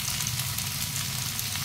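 Urad dal, finely chopped onion and curry leaves frying in hot oil, giving a steady, close sizzle with crackling hiss and no voices.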